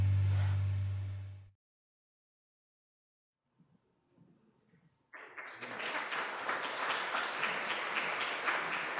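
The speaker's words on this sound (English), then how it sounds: "Absolutely, you can applaud that." Applause fills a church after a sermon introduction, a broad steady wash of many hands clapping that rises abruptly after a brief lull and continues strongly to the end, with a low hum and faint voices earlier.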